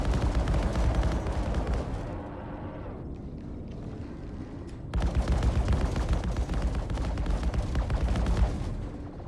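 Ship weapons firing during a space battle in the game Star Citizen, a dense, continuous rumbling barrage with sustained gunfire that drops back briefly midway and then resumes at full strength.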